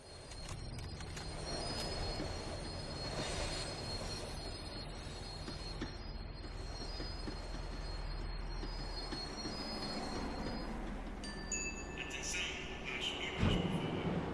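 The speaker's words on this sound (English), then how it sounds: "The tram was slowing down, and I'd only just gotten on board." A tram in the video game Max Payne 3 slows down, with loud, sustained metallic wheel squeal over a steady rolling rumble and rattling railcar noise. It runs continuously throughout, with a sharper screech near the end.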